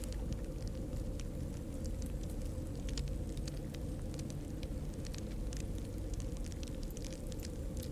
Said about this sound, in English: Then we'll lose that nice fireplace noise.